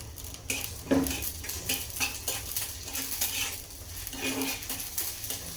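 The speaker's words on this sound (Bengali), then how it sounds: "ডালটাকে বাগার দিয়ে নিতেছি" Dal being tempered in a pan: repeated scraping stirs and metal utensil clinks over a bright, continuous sizzle of hot oil, close and fairly loud.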